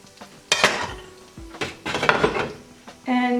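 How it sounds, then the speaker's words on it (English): Metal clanks and scrapes as a lid comes off a pot of mutton and lentil stew, a few sharp clatters close by, with brief talking at the end. "I'll just remove the lid"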